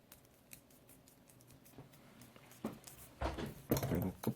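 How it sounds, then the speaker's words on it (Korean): Scissors snip through paper while a paper robot tank is being built, a few quick close cuts near the end that get louder, with faint handling rustle before them. "한 4에서 5cm 잘라주세요."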